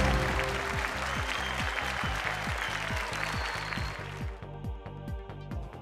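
Studio audience applause on a Bhojpuri television quiz show after a correct answer, sustained clapping over a pulsing musical beat that drops away near the end.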